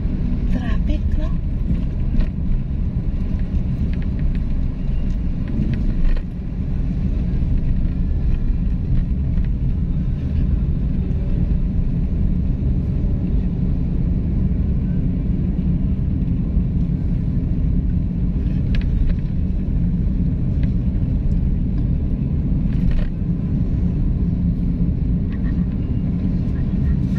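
Inside a car driving the road from Rosales to Binalonan in Pangasinan, a heavy, steady low rumble of tires and engine fills the cabin. Passing-traffic noise rises now and then, and people chat over it throughout.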